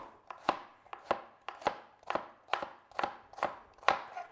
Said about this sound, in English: So really it's just a matter of chopping up.